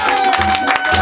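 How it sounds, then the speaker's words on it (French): A church congregation applauds and cheers in praise during a worship service, a dense, steady burst of clapping and voices that fills the space for about a second, with a sustained tone running underneath. "Donnons les acclamations au Seigneur."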